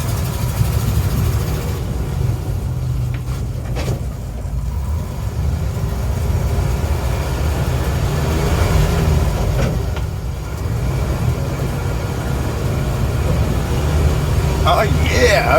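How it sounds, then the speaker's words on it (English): A 1972 Ford COE C600 truck with a 361 engine drives along with a loud, steady low engine rumble and heavy vibration that continues throughout, with occasional rattles on top. "that motor's got a heck of a vibration to it, but hey, she's driving"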